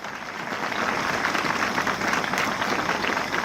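A crowd applauds at a Republic Day patriotic poetry gathering, a dense, steady wash of clapping that holds evenly for a few seconds with no speech over it.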